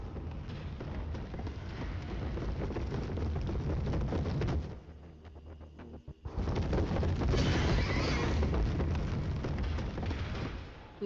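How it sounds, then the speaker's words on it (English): A horse-like monster in the horror game Mouthwashing lets out drawn-out, warbling screeching cries over a dense, loud backdrop, breaking off briefly into a near-silent gap before the harsh noise returns at full strength. "Of course, it's not a horse, it's the centipede horse."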